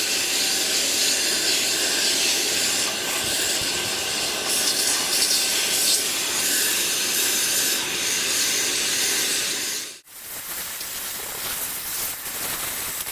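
A Bissell HydroSteam spot cleaner emits a loud, steady steam hiss for about ten seconds, then cuts off abruptly before a softer, rougher hiss resumes.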